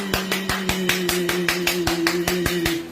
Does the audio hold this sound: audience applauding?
yes